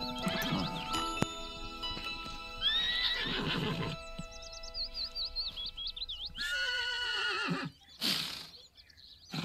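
Horses whinny repeatedly in the Sims 4 life-simulation game, with several high, wavering neighs in separate bursts and short gaps between calls.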